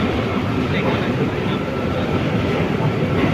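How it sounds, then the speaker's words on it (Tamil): The Colombo Fort to Badulla Night Mail Express pulls out of the station in Sri Lanka, a loud, steady rumble of wheels and carriages filling the whole stretch. "இப்போ டிபார்ட் ஆகுது. Colombo fort to Badulla night mail express."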